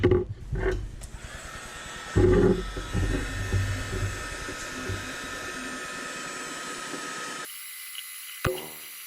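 A heat gun blows a steady airy hiss over a leather dog collar. A few handling clunks come first, and the hiss cuts off near the end, leaving a brief knock.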